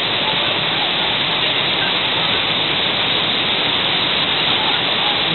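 Cachoeira Ouricuri, a waterfall in Pilões, Paraíba, gives a loud, steady broadband roar of falling water that stays unbroken throughout.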